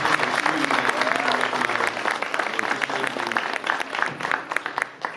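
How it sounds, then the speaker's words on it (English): Audience at a panel event giving a round of applause for Magdalena, steady scattered clapping across the room that thins out toward the end, moderately loud. "we need to give a huge round of applause to Magdalena in the corner of the room"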